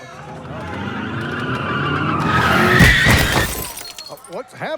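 A truck driving into a wrestling event, engine roar rising with screeching skidding tires and a loud crash, amid a shouting crowd and excited talk.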